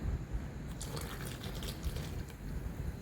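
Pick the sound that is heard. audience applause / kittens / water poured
water poured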